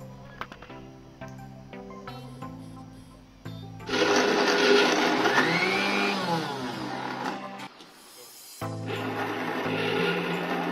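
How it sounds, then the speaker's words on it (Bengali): A kitchen blender grinds cooked beef and lentils for shami kebab in a loud whirring burst, stops briefly, then starts again. Soft music plays before the motor kicks in. "এখন ব্লেন্ডার করব।"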